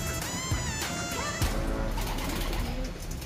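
Racing pigeons coo repeatedly at close range in a loft, soft throaty calls overlapping with scattered chirps and light rustling.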